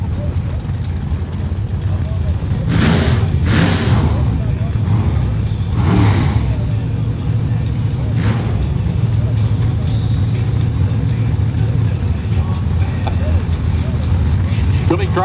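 Drag racing cars, a little 1934 Roadster against an Altered, rumble loudly at the strip with repeated revving bursts over a constant engine roar, while commentators talk throughout.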